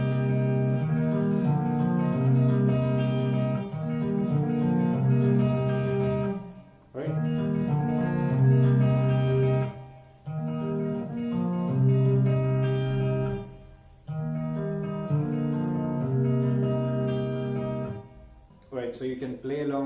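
Guitar plays a song at full tempo, strummed chords repeating in a steady rhythmic pattern with brief pauses between phrases. The playing is close and clear, with no talking.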